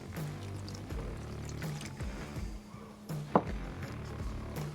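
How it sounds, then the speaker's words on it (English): Half a cup of water poured into a pan of bacon jam simmering with thyme, a soft low liquid gurgle with sizzling under it and a brief sharp clink partway through. "Let's add in a 1/2 cup of water."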